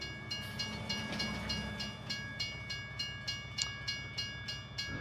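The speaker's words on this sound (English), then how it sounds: "Up, we got a train coming." A train in a Farm Sim video game rolls past, giving a steady rumble with regular clickety-clack beats from the wheels, close and continuous with no voices.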